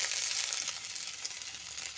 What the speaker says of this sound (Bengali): আদা কুচিটা দিয়ে একটু নেড়ে নিচ্ছি